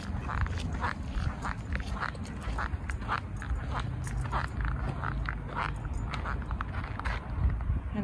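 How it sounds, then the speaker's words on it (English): Ducks foraging for food in a neighborhood front yard, a steady stream of quacks and soft pecking sounds close by, continuous and busy over low background rumble. "She feeds the ducks a lot, so they're in her front yard a lot looking for food,"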